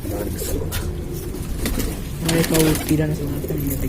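Pet pigeons at a Lucknow loft give low, throaty coos in short repeated phrases, mixed with a voice talking nearby.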